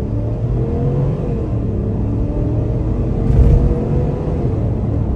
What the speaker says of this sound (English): this should be a good opportunity right here to try an acceleration out off the line